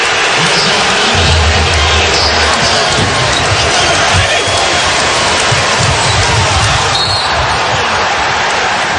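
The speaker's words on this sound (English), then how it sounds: "Crowd, of course, here in Boston loves it." A Boston arena crowd cheers loudly and continuously at a Celtics playoff basketball game, a dense, steady roar that fills the whole stretch with no breaks.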